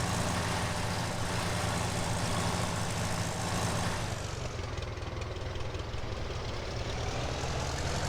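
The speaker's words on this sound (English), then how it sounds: "I like the sound of this one, just the old typical 4-cylinder." A four-cylinder petrol tractor engine in Farming Simulator 17 idles steadily and loudly with a low, rumbling drone and a faint knocking rhythm, running continuously without any voices.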